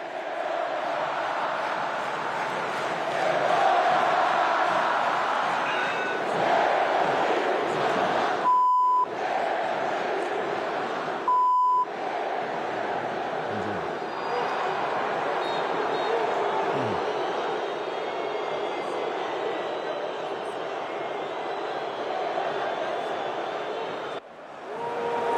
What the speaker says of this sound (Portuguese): Vamos ouvir a vaia?